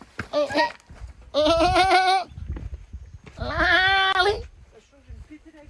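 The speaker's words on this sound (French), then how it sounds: "Les chèvres, t'entends?" Two loud, wavering bleats from goats, close by, separated by quiet gaps with faint rustling and a few distant softer calls.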